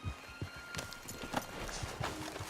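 Horse hooves clip-clop steadily in Red Dead Redemption 2, a regular walking rhythm of fairly close, moderately loud thuds with no talk over it.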